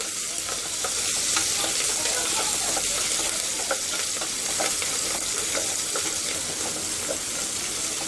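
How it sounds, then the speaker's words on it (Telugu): Curry leaves with chopped onion frying in a pan, a loud, continuous, hissing sizzle with soft stirring scrapes throughout, close and unbroken, with no talk. "కరివేపాకు వేయించుకోవాలి ఫస్ట్"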